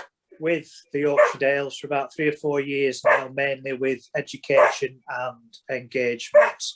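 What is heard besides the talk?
dog barking in the garden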